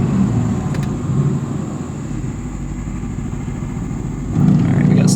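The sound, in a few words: Mercedes-AMG GT C roadster engine during quick downshifts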